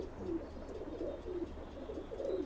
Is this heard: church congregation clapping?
no